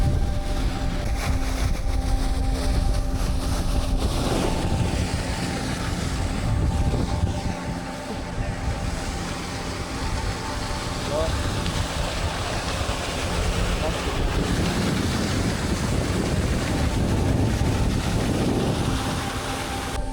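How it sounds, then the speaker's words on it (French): A waterfall near Cairns, Australia plunges several hundred metres, heard as a continuous broadband roar with wind noise layered over it, while people talk intermittently nearby. "Regardez-moi cette cascade qui tombe directement"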